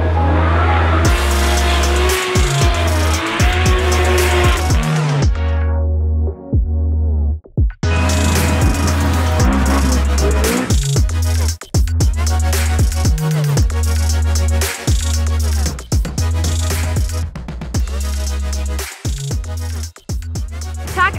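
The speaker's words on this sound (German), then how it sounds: "Wir haben jetzt noch einen kleinen Abstecher zur Drift Show gemacht." Drift show cars at the Nürburgring, engines roaring loudly with long squealing tire screeches, a short pause around five to seven seconds, then repeated revving and skidding bursts close by.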